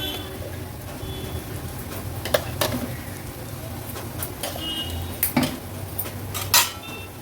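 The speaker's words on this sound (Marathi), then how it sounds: "वाटण पण तेलावर छान आपल्याला परतून घ्यायचं एक दोन मिनिटासाठी तरी" Dry coconut masala paste sautéing in oil in a pan for Agri-Koli style mutton, with spoon scrapes and metallic clinks repeating over a low, steady sizzle.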